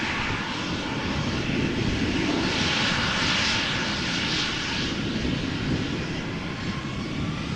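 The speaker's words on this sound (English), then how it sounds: "This one, an Embraer 175 going to Gdansk in Poland." An Embraer 175 jet airliner bound for Gdansk roars steadily at Amsterdam Schiphol airport, a loud, continuous engine drone with broadband rushing noise and no talking.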